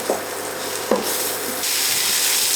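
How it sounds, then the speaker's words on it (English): Flour-dusted cubes of beef dropped into a hot pan for a beef, mushroom and marrowbone pie, a couple of soft knocks as pieces land, then a loud steady sizzle that swells and holds. "And now we can add the cubes of beef to the pan"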